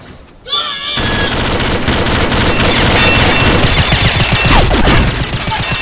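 Heavy, loud gunfire from the video game Combat Arms, dense rapid automatic bursts overlapping almost continuously after a brief quieter start.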